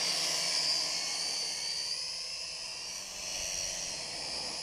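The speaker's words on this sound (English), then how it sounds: "but I'm going to just take it off manually, I think." A Fei Lun FX176C1 brushed GPS quadcopter drone lifts off with a steady high-pitched whining buzz of small brushed motors and props, continuous and fairly even, heard alone without talk.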